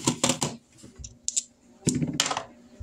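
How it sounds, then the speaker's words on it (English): Two dice rolled for a game of Shut the Box, heard as quick clattering, clicking bursts that come in a cluster, pause, and then come again, close and fairly loud with no talking. "You're going to roll these 2 dice."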